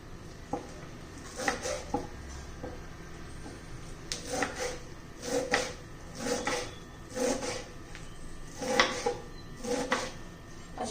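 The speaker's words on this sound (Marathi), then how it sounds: "मेथी आता धुवून घेतलेली आहे ती एकदम बारीक अशी चिरून घ्यायची आहे" Washed fenugreek leaves being chopped finely with a knife on a board, a steady series of crisp chopping taps in short bursts, close and fairly quiet.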